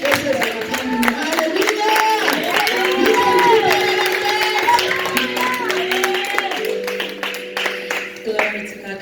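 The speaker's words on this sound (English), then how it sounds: "let's all stand and clap our hands" A church congregation claps along in rhythm, sharp repeated hand claps mixed with voices, cheering and singing at a worship service.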